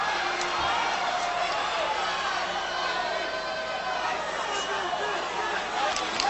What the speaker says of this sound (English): Kind of hear the crowd getting a little restless after an action-packed first 2 rounds